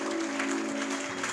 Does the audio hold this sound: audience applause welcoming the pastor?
yes